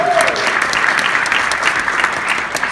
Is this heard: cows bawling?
no